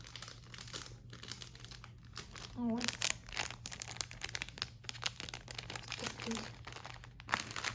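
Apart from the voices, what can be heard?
plastic packet crinkling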